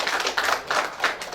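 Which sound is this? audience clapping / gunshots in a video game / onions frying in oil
audience clapping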